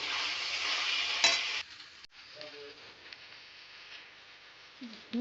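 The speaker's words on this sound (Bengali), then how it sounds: "আলু দিয়ে দিয়েছি আলু দিয়ে একটু ভেজে নেব" Potatoes frying in a pan for chow mein, a close sizzle that drops to a quieter frying hiss after a sharp knock, with a few light clinks of a spoon.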